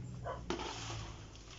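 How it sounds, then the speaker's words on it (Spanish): Dogs bark outdoors at workers coming down near a neighbour's place, with a few short barks at middle distance over a steady noisy background. "por ahí salieron los perritos a ladrar porque están bajando unos trabajadores"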